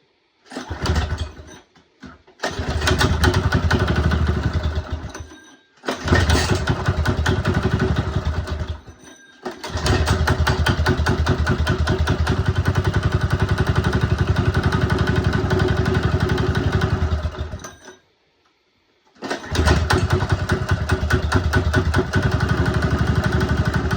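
A small engine with a freshly rebuilt carburetor runs loud and close with a rough buzzing drone. It cuts out briefly several times and picks back up, and there is no talking.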